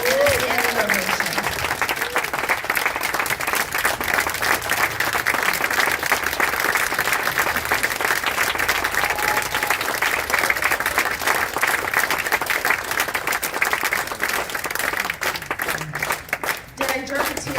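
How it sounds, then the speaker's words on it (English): Sustained round of applause with a standing ovation at a life celebration honoring Dr. George Castro, dense steady clapping from a large audience filling the room for over fifteen seconds, with some voices and cheers mixed in before it thins out at the end. "Let's give George a last round of applause and a standing ovation."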